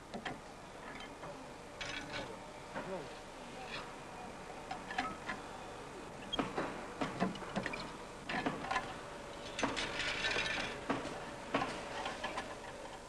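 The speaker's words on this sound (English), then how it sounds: "To check the strength of the epoxy joint, each racket is given a torque test." A torque testing machine twisting the epoxy-bonded joint of a racket makes quiet, irregular mechanical ticks and clicks over a faint steady hum, growing slightly busier toward the end, with no voices.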